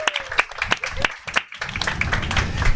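Audience applause at a motivational speaking summit, scattered claps building into a fuller burst of clapping from a crowd, fairly close, with a voice or cheer briefly over it near the start.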